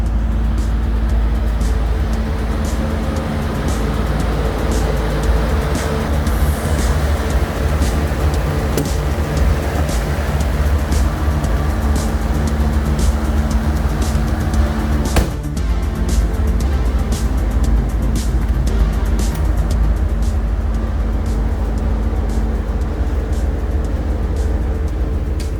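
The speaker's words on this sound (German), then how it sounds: "Und ich fahre die mal gerade rüber in den Showroom." A 1991 Corvette C4 ZR1 V8 drives along at a steady, loud engine drone that holds close and constant throughout, with a brief dip partway through.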